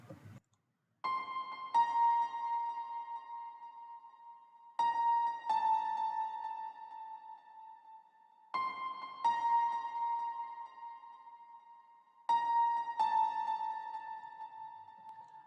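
Reverb-drenched lead synth notes for a track, struck in four repeating two-note phrases that ring out and decay slowly, clean and alone with no talk.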